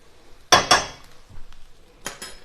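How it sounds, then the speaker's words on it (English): A spoon scrapes herbs cooked in oil off into a pan for a Mediterranean stew. Two sharp close metallic clinks come first, then a quieter tap and a later double clink. "Scrape this off the back of my spoon here"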